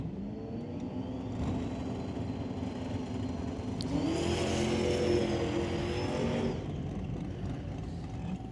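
A drag race car launches and accelerates down the track at a Doorwarz drag racing event, its engine heard steadily from a distance as the pitch climbs and swells, then eases off as it cruises on.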